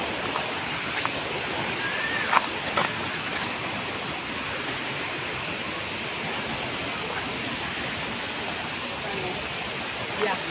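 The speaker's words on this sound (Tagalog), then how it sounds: "Tanaw na po ang kanilang waterfalls." Guchi Waterfalls, a small waterfall in Coron, Palawan, gives an even, unbroken rush of falling water heard from a short distance, with people's voices occasionally rising over it.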